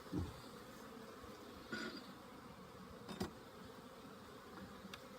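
Honey bees swarm around an open hive during a spring inspection, a faint continuous buzz with a few brief knocks and rustles breaking through, no voices.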